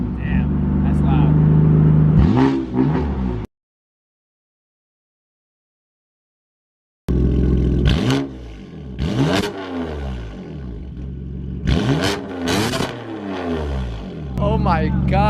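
A BMW F82 M4 with an Armytrix valved exhaust revs loudly in sharp bursts, the engine rising and falling several times close by with a gap of silence, while people talk and react over it.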